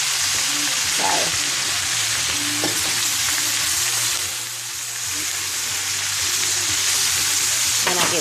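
Potatoes, cabbage and nuts fry in a pan with a continuous close sizzle, broken by scraping stirs, while a low background hum and a few faint knocks sit underneath.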